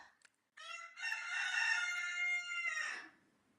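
A rooster crows once in a long, loud, drawn-out call close to the listener, opening with a short rising note and ending in a trailing fade, with no talking over it.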